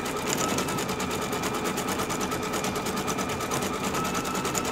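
Computerized embroidery machine stitching a quilting stipple pattern and running toward its locking stitch, a loud, steady rapid needle chatter with a fast regular rhythm that continues without pause, close up and alone.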